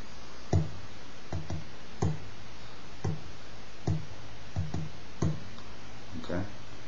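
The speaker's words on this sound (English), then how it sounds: "I'll be showing you the live version with the beats played on the guitar" Percussive beats tapped on an acoustic guitar body for a song, with soft thumps and clicks repeating in a steady pattern of roughly one every half-second to second, close and fairly quiet.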